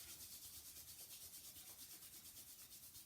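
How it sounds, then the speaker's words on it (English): Palms rubbing briskly together in a quiet yoga session, a steady, soft swishing friction that pulses rhythmically and continuously throughout, close and alone with no talk. "Sitting up tall, rubbing palms together."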